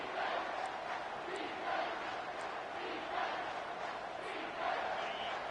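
A stadium crowd in a college football video game roars and cheers in a sustained wash of noise, swelling and easing in waves and holding loud throughout.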